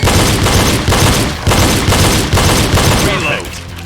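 Pistol fire in a reload shooting drill, a run of loud, close shots in quick succession with brief breaks between bursts.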